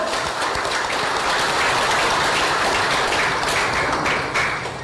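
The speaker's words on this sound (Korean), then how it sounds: "동의하시면 뜨거운 박수 부탁드립니다" Steady, dense applause from a large audience at a political rally in Busan, continuous and fairly loud throughout with no voices on top.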